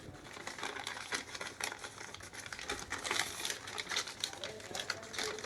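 A sewing machine stitches a waistband casing on fabric, giving a rapid, fairly quiet clatter of needle strokes that continues throughout while someone talks over it.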